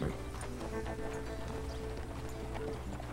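Quarter horse hooves clip-clopping at a steady walk in a western video game town, soft and fairly quiet under faint background game ambience.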